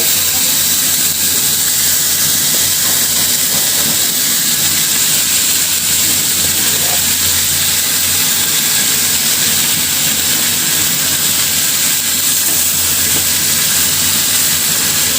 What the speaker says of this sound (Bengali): এখন সবগুলো মাছ ভাজি করে নেব।